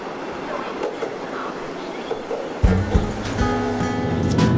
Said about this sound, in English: we're taking what's supposed to be the most spectacular train ride in Taiwan